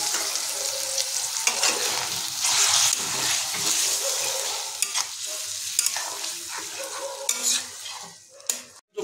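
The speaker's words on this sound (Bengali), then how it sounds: "আমরা জলটা যোগ করে দিয়েছি, এটাকে আমরা আরও মিনিট 5 এইভাবে লো ফ্লেমে কষিয়ে নেব" Potatoes and raw banana simmer and sauté in a little water over a low flame, a steady close frying hiss broken by repeated spoon stirs and scrapes against the pan.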